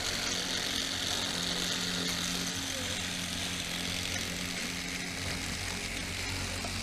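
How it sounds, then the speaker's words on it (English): Four brushless DC motors with rotors spinning together in a simple motor design setup, giving a steady, fairly loud whirring drone with a low hum that holds constant throughout. "four-way arrangement of all four rotors spinning in unison"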